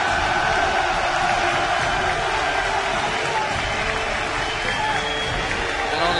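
Large esports crowd at the League of Legends All-Star 2014 grand finals cheering and applauding steadily, a dense continuous roar of clapping and voices filling the arena throughout.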